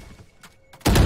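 A single loud gunshot blast from a first-person shooter video game hits abruptly at the end, after a quiet stretch with faint background sounds.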